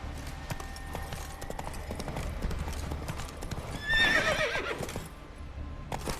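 Horse hooves clip-clopping steadily in the video game The Witcher 3, a continuous rhythmic trot with a brief neigh and rise partway through, at moderate loudness.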